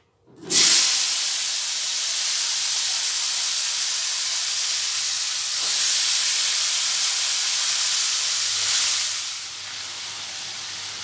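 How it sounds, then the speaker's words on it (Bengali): Cut green beans drop into hot oil with a sudden loud sizzle that settles into a steady close hiss and swells briefly twice before it eases. No one speaks. "এবার ওই গরম তেলে দিয়ে দেব।"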